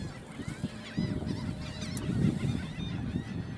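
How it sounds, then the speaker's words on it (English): Geese honk and squawk repeatedly at a middle distance, overlapping calls coming in irregular bursts over low outdoor background noise. "The birds are squawking today."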